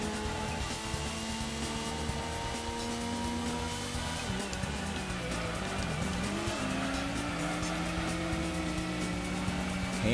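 Race cars in the Gran Turismo video game, including an RX-7, with continuous engine drone and shifting pitch as revs rise and fall, plus tire squeal through corners, steady and alone with no talking.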